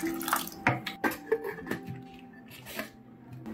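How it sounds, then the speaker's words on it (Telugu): Two glasses of water poured into a pressure cooker holding soaked lentils for mutton haleem, splashing and gurgling in short uneven bursts with a few clinks, close by, no talk. "టూ గ్లాసెస్ వాటర్ వేస్తున్నాను."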